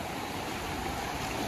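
Cyclone floodwater rushing past in a steady, loud, broadband roar that stays unbroken through the moment, with no voices over it.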